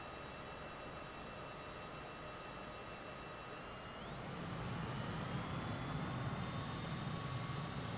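A MiG-21bis jet engine in Microsoft Flight Simulator 2020 hums with a steady whine, then swells into a louder roar as the pitch rises midway and holds, with no talk.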